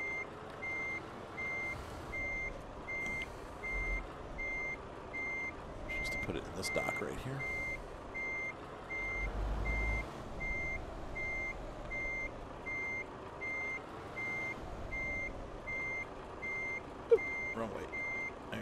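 A truck in Farming Simulator 19 backs up with a steady, evenly spaced reversing beep repeating throughout, its engine idling low beneath, while someone talks over it.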